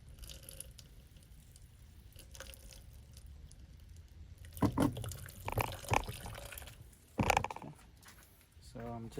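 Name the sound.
water and vinegar dripping from countertop ice maker drain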